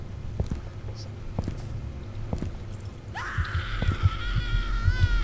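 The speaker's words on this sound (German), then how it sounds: "jetzt fängt der Ding wieder an zu schreien" Creature in the horror game Ildefonse lets out a shrill, wavering scream that rises partway through and holds to the end. It sits over a low rumble with faint thuds, fairly loud and close.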